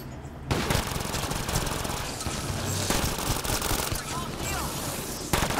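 Rapid automatic gunfire rattles almost nonstop in the video game Mass Effect Andromeda, loud and dense with bursts that barely pause, and a voice speaks over the shooting.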